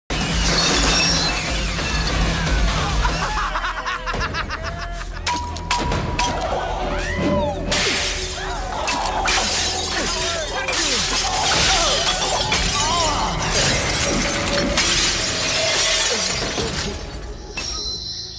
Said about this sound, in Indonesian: mereka menghajar Keong dengan permainan baseball, yaitu dengan memukul botol-botol minuman keras ke arah Keong